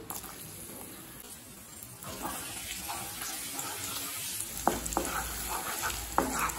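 Steady sizzling of finely chopped ginger and garlic frying in hot oil in a pan, growing louder partway through, with a few sharp clinks of a utensil against the pan.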